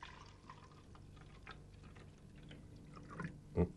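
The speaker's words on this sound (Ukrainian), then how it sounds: "спочатку наливаємо воду до пляшки" Water is poured into a bottle for a simple air experiment, a faint soft trickle that ends with a brief, louder splash.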